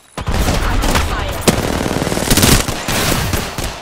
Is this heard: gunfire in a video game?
yes